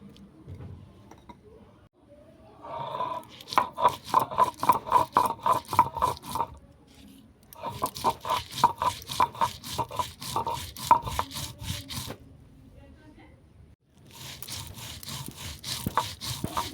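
Sesame and mustard are ground into a paste for steamed hilsa: quick rhythmic rubbing and scraping strokes come in three close bursts separated by brief pauses.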